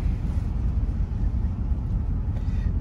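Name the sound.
1966 Chrysler New Yorker car driving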